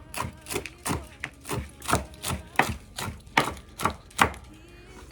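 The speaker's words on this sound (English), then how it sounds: "I've got the rest of this bacon I cooked this morning, so we're going to chop that up." A knife chops cooked bacon on a cutting board in a kitchen, a dozen or so crisp, evenly spaced thuds at a brisk steady rhythm, close up and alone.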